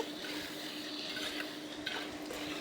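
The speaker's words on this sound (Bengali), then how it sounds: "এবার আমি টমেটোর মধ্যে সব কিছু ভেজে রাখা চিকেন, পেঁয়াজ এবং ক্যাপসিকামটা দিয়ে খুব ভালোভাবে টমেটোর সাথে মিক্স করে নিচ্ছি।" Fried chicken, onion and capsicum are stirred into tomato in a pan for dhaba-style chilli chicken. A spoon scrapes and turns the food in a steady rhythm over a soft, close sizzle, and no one speaks.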